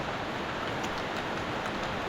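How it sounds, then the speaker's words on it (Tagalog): Heavy rain falls in a steady, close hiss with faint pattering drops throughout, and no one talks. "Ayan na naman ang ulan."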